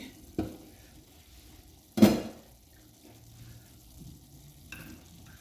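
A spoon scrapes and clatters in a pan while stirring chicken liver fry, with two sharp knocks separated by quiet, soft sizzling in the background.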